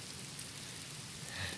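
Ice pellets falling on surfaces on a backpacking trip: a dense, even hiss of tiny impacts, continuous and fairly faint, with no voices.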